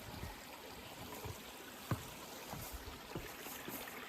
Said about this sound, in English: Beautiful little babbling brook along the trail site.